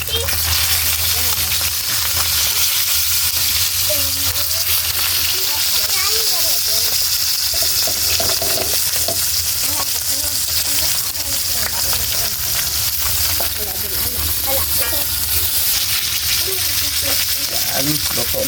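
String beans and fish fry in a pan with a loud, continuous sizzle and crackle, while a voice talks over the cooking now and then.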